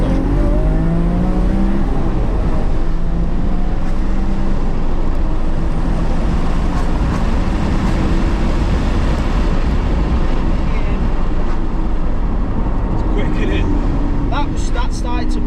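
Twin-turbo Lamborghini Aventador accelerating hard through the gears, a loud continuous engine roar with rising pitch sweeps from inside the cabin, steady throughout with occasional higher whines near the end.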